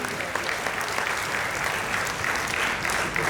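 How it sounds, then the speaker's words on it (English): Audience applause during a technical session, an even, continuous patter of clapping from a seated crowd, moderately loud and unbroken across the whole stretch. "Give a big round of applause to me"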